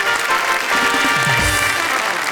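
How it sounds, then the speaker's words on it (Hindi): A studio audience applauds to welcome a guest onto a comedy show, a dense continuous clapping that fills the whole stretch at close range, with a voice briefly audible underneath. "हम जोरदार तालियों से स्वागत करते हैं इनका"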